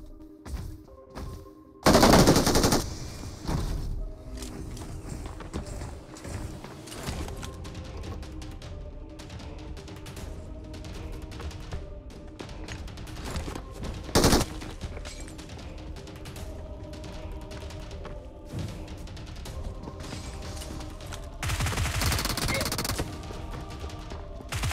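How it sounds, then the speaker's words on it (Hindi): Gunfire from a squad house in the mobile battle royale game BGMI crackles throughout, with bursts of rapid automatic shots, a few louder nearby blasts, and quieter distant firing under game ambience and faint clicking mechanisms. "स्क्वाड हाउस से फायरिंग की आवाज़ आ रही है"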